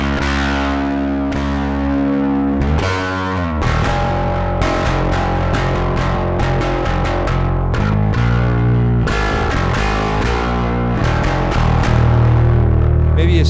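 An electric guitar played through a Suncoast BC3 XL distortion pedal, with warm, breaking-up overdrive on sustained chords and picked notes that run loud and continuous throughout.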